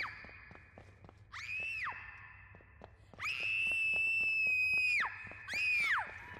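A girl screams for help in a horror video game: three shrill, high-pitched cries, with a long sustained middle scream between shorter ones, over a quiet background with faint ticking.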